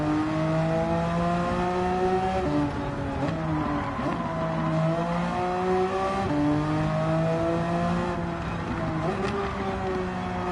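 A race car in Gran Turismo 7 with a wild rear-engine layout, accelerating hard downhill, its engine note loud and close, rising in pitch through the gears with brief dips at shifts, steady and continuous.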